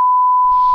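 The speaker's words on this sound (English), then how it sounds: "More beeps." A steady electronic beep from the video game Minecraft, one sustained pure tone lasting under a second, loud and clean, with a faint low rumble entering near the end.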